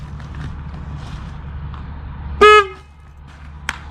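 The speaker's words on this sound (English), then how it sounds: "It ain't that loud. It's a horn" An upgraded rally horn on a 2021 Can-Am Ryker three-wheeler gives one short, loud, bright honk close by, followed by a tiny blip, over low background rumble.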